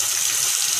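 Tap water pours steadily into a plastic bottle during a 737 aircraft water test, a close, continuous gushing hiss with no voices.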